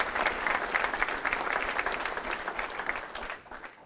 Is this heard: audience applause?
yes